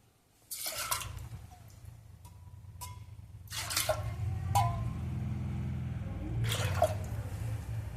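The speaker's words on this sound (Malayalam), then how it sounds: "ഇനി ഇതിൽ നമുക്ക് 3 കപ്പ് വെള്ളം ഒഴിക്കാം." Water is poured into washed toor dal in a cooking pot, a few separate splashing pours with low rumbling and dripping between them, close and moderately loud, with no talking.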